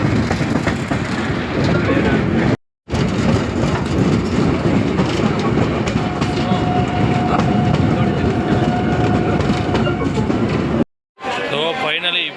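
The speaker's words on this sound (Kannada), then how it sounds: "ಫೈನಲಿ ಬಂತಪ್ಪ ಟ್ರೈನ್, ಕೊನೆಗೂ ಕಾಯ್ದೆ ಇವಾಗ ಬರ್ತಾ ಇದೆ" A passenger train on the Jhansi to Lucknow route pulls into a busy railway station, its loud continuous rumble and wheel clatter filling the scene, with a steady squeal-like tone partway through and crowd chatter underneath.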